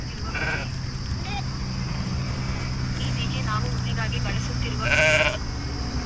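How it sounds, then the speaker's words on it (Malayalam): Sheep bleat in short bursts outdoors during a road trip from Trivandrum to Goa, with a steady background hum and people talking over the calls. "ചെമ്മരിയാട് തന്നെ നമ്മൾ കണ്ടുപിടിച്ചിരിക്കുന്നു"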